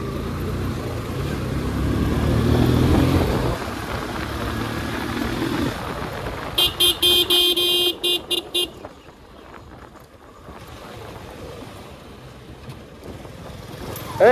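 Motorcycles ride along a road on a group trip to Palki beach, with steady engine and road noise throughout, a burst of rapid horn toots in the middle and quieter rumbling afterward.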